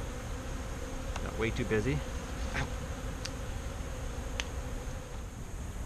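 Honeybees hum steadily around an opened top bar hive, a close continuous drone with a few sharper passes, while a person briefly speaks over it.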